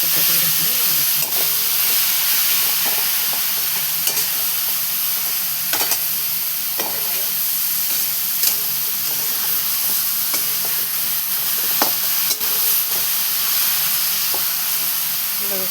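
A ridge gourd thecha mixture is stirred and sautéed in a pan, producing a steady close sizzle and hiss with occasional scraping clicks of the spoon throughout.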